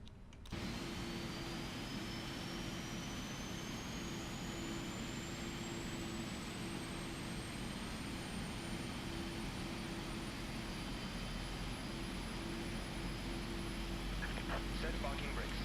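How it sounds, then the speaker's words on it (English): Jet engine spooling up from a standing start on a PMDG 777-300ER in Microsoft Flight Simulator, a steady roar with a slowly rising high whine that climbs across the whole span, with low cockpit hum underneath. "fire up the left engine"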